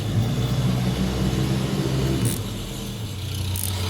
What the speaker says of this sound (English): Sorry about the mail truck going by.